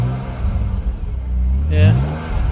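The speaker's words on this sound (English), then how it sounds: "You can hear a little bit of the popping in the exhaust getting burned out." A BMW E46 with a newly installed engine revs under steady idle rumble, rising once toward the end with faint exhaust pops, while people talk nearby.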